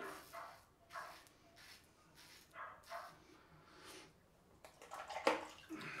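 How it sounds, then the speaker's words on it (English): A neighbour's dog barks a few times in the distance, faint and intermittent, over quiet background noise with occasional splashing during a wet shave. "one of the neighbours' dogs barking"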